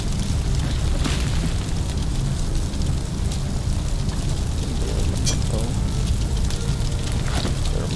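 Supernatural flames burst from a fireplace in the Shadowgate video game, a loud, continuous roaring rush with a rumbling low end that holds steady for the whole stretch.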